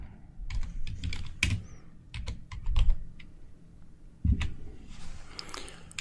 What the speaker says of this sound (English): So I'll now type in left